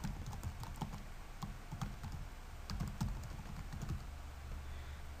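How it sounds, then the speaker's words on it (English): Light keystrokes on a computer keyboard tap out in quick irregular clusters with brief pauses, quiet and close over faint background hiss. "Just type in your email."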